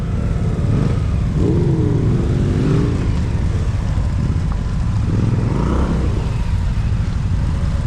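A BMW motorcycle cruising on Highway 74 gives a steady engine drone mixed with rushing wind, loud and continuous throughout.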